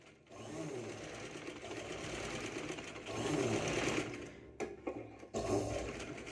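Sewing machine stitching the lining of a katori blouse, a close rapid mechanical whirr that starts, runs in bursts and stops briefly a few times.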